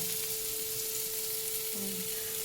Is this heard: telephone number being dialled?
no